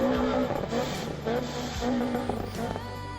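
A Renault Clio 197 race car engine in a damaged condition at a circuit, revving loudly and unevenly close by with rough, strained tones and a sputtering change near the end.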